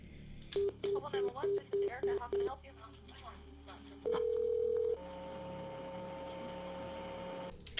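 A phone line gives a quick series of short electronic ring pulses, then a long steady tone followed by a quieter sustained hum.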